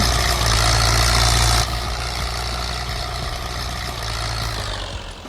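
An orange tractor engine idles in Farming Simulator 22, a loud, steady low rumble with a constant drone that drops slightly in level early on and then holds unchanged.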